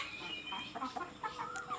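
Local chickens at a small poultry farm in Assam clucking and chirping in quick, overlapping calls, fairly faint and close, with no voices over them.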